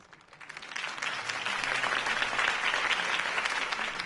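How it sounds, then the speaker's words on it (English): Steady crowd applause in a video game swells up and holds, a dense wash of clapping hands with no talking. "could have heard that applause"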